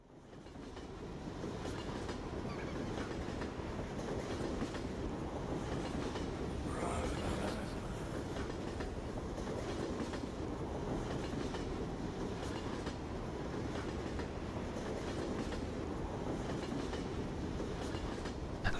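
A train rolls along in the Left 4 Dead 2 video game, a steady low rumble with rhythmic clickety-clack of wheels, moderately quiet and unbroken, with no talking.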